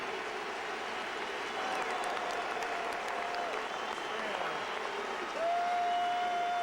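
Dense, roaring stadium crowd cheers and applauds at a 2008 NLDS playoff game in Chicago, Dodgers at Cubs, swelling louder near the end and holding steady throughout.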